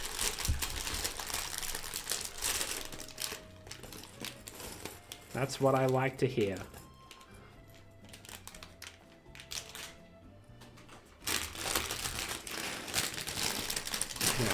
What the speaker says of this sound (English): This plastic bag has another plastic bag inside of it.